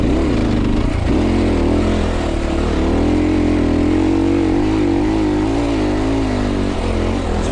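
A Zongshen CSC RX3 Cyclone motorcycle climbs an off-road hill, its engine droning loud and steady with wavering pitch as the rider holds the throttle, close to the microphone throughout.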